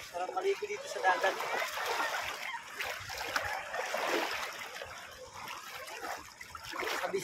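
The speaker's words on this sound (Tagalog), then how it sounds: "Hi guys, naliligo kami sa dagat." Seawater splashes and churns around people bathing at Bislig beach in Tanawan, a steady wet sloshing heard close up beneath ongoing talk.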